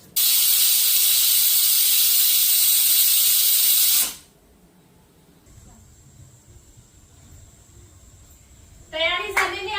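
A pressure cooker of vegetable popti on a gas stove lets out a loud, steady steam hiss for about four seconds, then falls to a quiet simmer before voices break in at the end.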